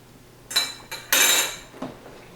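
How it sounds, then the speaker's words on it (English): Metal slotted spoon scraping and clinking against a pot while lifting out boiled, fork-tender plantains, with a few short clanks and one longer scraping rattle, close and fairly loud, with no talking. "Take my slotted spoon, let them drain, and take them out."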